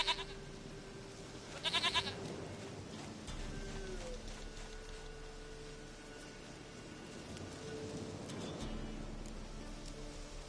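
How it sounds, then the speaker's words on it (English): Bleating goat bursts out in a short cluster near the two-second mark, then softer bleats and animal calls follow over steady rain-like background noise, moderately close and unaccompanied by talk. "Goat of mine, dearest,"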